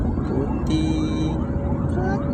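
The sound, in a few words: ambulance siren on a city street at night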